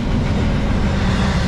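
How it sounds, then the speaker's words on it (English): A steady, loud rumble of a train near the Lehigh Conrail line, with an Erie Lackawanna 1700 ballast train standing close by, filling the short stretch without a break. "We got a Erie Lackawanna 1700 ballast train sitting there."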